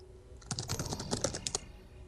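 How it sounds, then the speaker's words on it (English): Quick bursts of typing on a computer keyboard, a dense run of key clicks lasting about a second, close and fairly crisp with no talking. "let me type something in chat"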